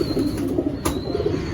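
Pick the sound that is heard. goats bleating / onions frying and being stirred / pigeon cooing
pigeon cooing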